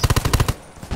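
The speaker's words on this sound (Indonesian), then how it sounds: "Hati-hati di belakang ada lagi nembakin." Rapid automatic gunfire in the Undawn video game during a PVP camp war: about seven close, loud shots in a fast, even burst that stops abruptly and leaves a quiet tail.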